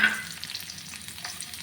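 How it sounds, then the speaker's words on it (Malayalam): Small shallots hiss and sizzle in hot coconut oil, a steady close frying crackle with some stirring and no voices. "ഇതിനകത്ത് നമുക്ക് ചെറുള്ളി ഇട്ട് കൊടുക്കാം."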